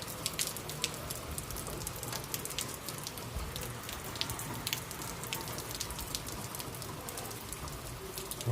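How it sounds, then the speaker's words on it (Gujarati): Heavy rain falls steadily in a village setting, a dense continuous hiss with scattered sharper drop patters, even in level throughout and with no voices. "વરસાદ ચાલુ છે અત્યારે અમારે જોરદાર"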